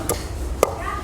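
Two sharp wooden knocks of a wooden pestle pounding chutney in a bowl, close by, separated by a brief pause with quiet background noise.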